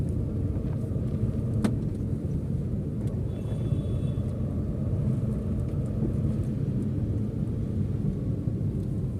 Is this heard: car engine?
yes